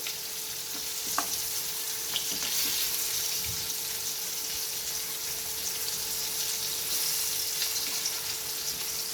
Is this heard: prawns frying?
yes